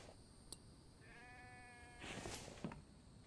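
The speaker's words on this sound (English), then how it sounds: "I hear sheep." A single faint sheep bleat wavers in the distance, followed by soft rustling and a couple of light knocks in a quiet setting.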